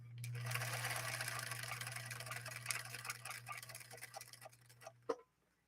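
A Husqvarna Viking 21E sewing machine running a straight stitch, a steady close mechanical whir with rapid ticking that runs evenly for about five seconds before stopping with a clunk.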